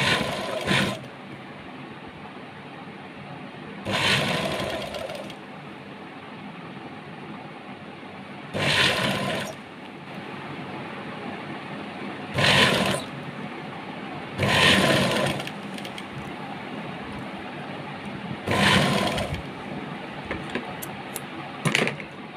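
A sewing machine stitches a gathered piece onto the neckline of a top in bursts of a second or so, with several separate runs and quiet pauses between them, close and moderately loud.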